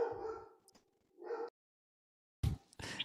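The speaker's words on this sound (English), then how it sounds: "Got a dog upstairs, suddenly upset." Dog barking upstairs in a house, heard indoors from another floor, several muffled yips and barks in short bursts separated by silence, fairly faint.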